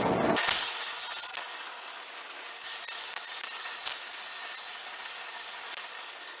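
Floor finish sprayed in a steady, hissing coat while finishing a floor transition, close and continuous with brief pauses between passes and no talking.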